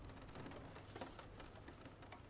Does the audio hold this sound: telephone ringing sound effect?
no